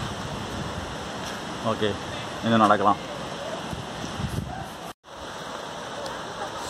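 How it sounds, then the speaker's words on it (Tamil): Steady broadband rush of a flowing stream fills the background near Ramanathi. People talk briefly over the water. "நம்மளுக்கு தண்ணி போகிற சத்தம் கேட்கும்."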